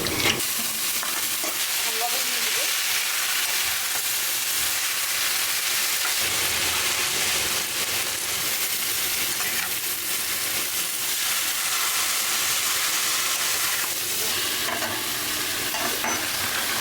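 Onions fry in a pan with a loud, continuous sizzle and stirring scrapes that run steadily from start to end.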